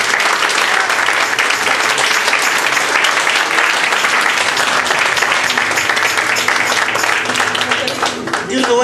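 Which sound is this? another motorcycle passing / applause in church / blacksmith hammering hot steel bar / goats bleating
applause in church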